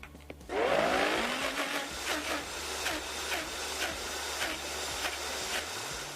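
A blender starts up with a rising whir, then churns avocado brownie batter steadily at high speed with a loud, grinding roar, its pitch wobbling slightly as the contents mix.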